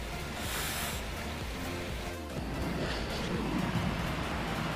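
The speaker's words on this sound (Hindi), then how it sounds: "ये खूबसूरत झरना बहता हुआ" A mountain waterfall flowing in the cold November Himalayan hills, a steady broadband rushing roar with wind buffeting, continuous and fairly near.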